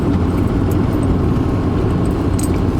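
Car engine and road noise roll on steadily and loud inside the cabin on a long winter drive from Minnesota to Louisiana, with no talking.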